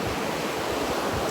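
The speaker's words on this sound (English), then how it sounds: "I'm not sure about these waves" Ocean waves break on a beach with a dense, continuous roar of surf, loud and close, with wind noise on the microphone.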